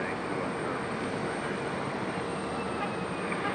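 A fixed-wing airliner takes off from a runway at Raleigh-Durham International Airport, its engines producing a steady, loud broadband roar that stays constant throughout without talk.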